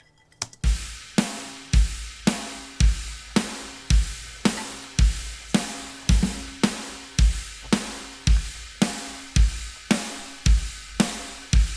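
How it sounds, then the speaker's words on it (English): Programmed djent drum groove from a drum VST, a loud, tight, steady pattern of heavy punchy kick-and-snare hits repeating evenly, alone with no voices. "So this is just the sick drum groove we've been hard at work with"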